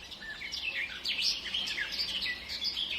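Small birds chirp and sing outdoors, with several bright, quick tweets and trills overlapping at moderate loudness over a quiet background.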